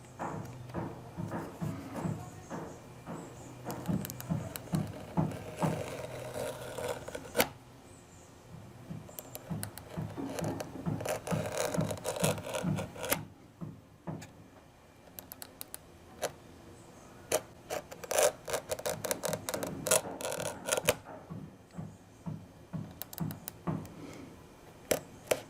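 A scraper blade with a burr scores through satinwood veneer in bursts of fine, rapid ticking and scratching strokes, close and fairly quiet, with short pauses between passes.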